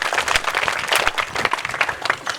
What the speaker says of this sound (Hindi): आज के दिन इस जोरदार तालियों से स्वागत